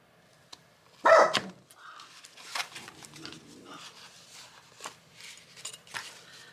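Dog barking from downstairs inside a house: one sharp, fairly loud bark followed by faint muffled yips, amid quiet rustling of paper craft work.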